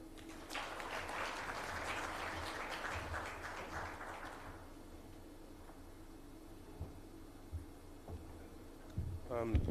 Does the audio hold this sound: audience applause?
yes